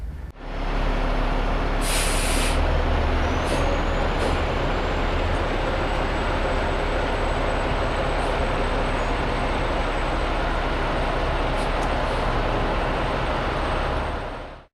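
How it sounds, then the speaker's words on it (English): A commercial truck fitted with tire chains rolling ahead, a loud steady engine and rolling rumble close by throughout, with a brief hiss of air near the start and no talk. "After the truck rolled ahead a bit"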